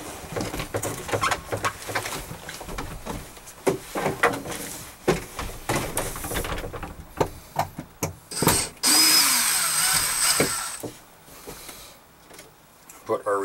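Power drill backing screws out of an aluminum window sill, several short bursts of whirring close by with a longer run near the end, pigeons cooing in the background.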